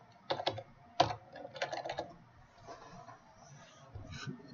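Quick bursts of typing on a computer keyboard, close and fairly quiet, in short uneven clusters separated by brief pauses.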